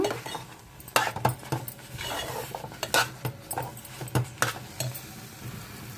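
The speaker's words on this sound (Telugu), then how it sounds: "బాగా కలిపేసుకుందాము" A spoon stirring rava kesari with ghee in a pan, close and fairly loud, with repeated scraping strokes and metallic clinks against the pan in an uneven rhythm.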